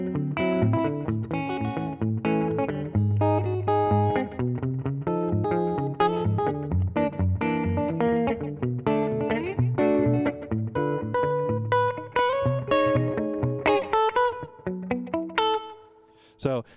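An electric guitar plays through a slapback delay pedal, where each note gets a single quick repeat that then dies away, a sustained, fairly loud passage that thins out near the end.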